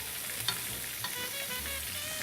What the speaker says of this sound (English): I can tell by the sound of this oil that these are cooking perfectly